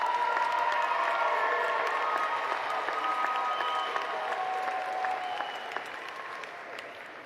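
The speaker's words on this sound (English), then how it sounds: "Graduates, give your support team a round of applause." Audience at a commencement ceremony applauding steadily, a dense sustained clatter of many hands that fills the space and slowly fades toward the end.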